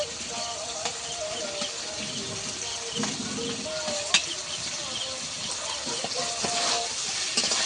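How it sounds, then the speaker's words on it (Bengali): Teasel gourd is stir-fried with ground spices in a pan for a fish curry, making a continuous sizzle broken by repeated scraping and clicking strokes of a spatula, close and moderately loud. Nobody talks. "কাঁকরোলটা দিয়ে আমি একটু কষিয়ে নেব"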